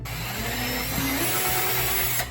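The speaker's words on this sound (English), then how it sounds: "So let's do one drill hole at our first intersection." A power drill bores a hole into a headboard for a custom tufted DIY build, a steady loud whirring grind that runs continuously and close, winding down at the very end.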